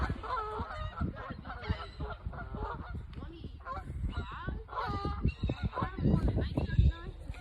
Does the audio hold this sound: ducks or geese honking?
yes